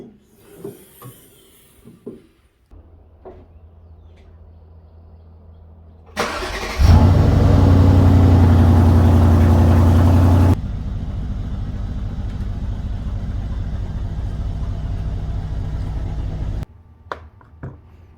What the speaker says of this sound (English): first I gotta turn my car around